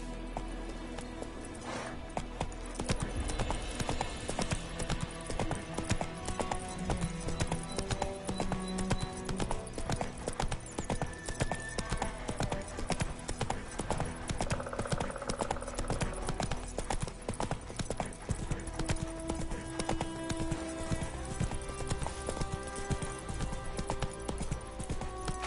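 Roach the horse gallops in The Witcher 3, hooves beating a fast, steady, close clip-clop rhythm with game ambience underneath and no talking.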